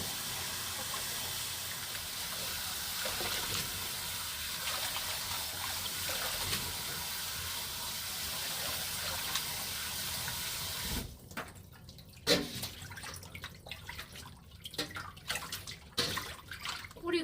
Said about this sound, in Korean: 이렇게 한쪽으로 해서 잘 흔들어서 씻어.